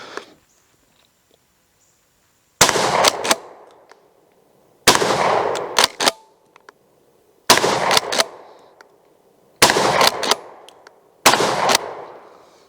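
McCoy PAS12 pump-action shotgun fired outdoors in a field test: five loud, sharp blasts spaced about two seconds apart, each followed by the clack of the pump being worked, with near silence between shots.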